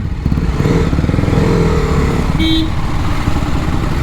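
A 2025 TVS Apache RR310 sport motorcycle engine runs loud and steady up close, its low, throaty rumble holding throughout with a brief higher whine partway through.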